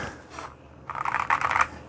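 Typing on a Keychron K10 HE mechanical keyboard: a quiet pause, then a quick run of crisp, close key clacks lasting under a second.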